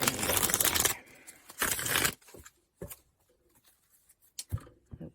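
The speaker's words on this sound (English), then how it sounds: "Let me just give this a quick shuffle." A deck of tarot cards is shuffled by hand in a few quick riffling bursts, close and crisp, followed by soft taps and a light flick as the cards settle.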